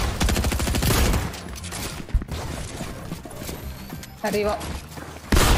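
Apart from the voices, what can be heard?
gunshots in video game Fortnite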